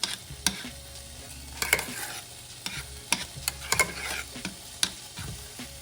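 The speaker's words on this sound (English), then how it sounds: "our chili is starting to heat up, so I'm just gonna give it a stir" Chili being stirred in a pot, a spoon scraping and tapping the bottom in irregular close strokes over a faint sizzle, no talk.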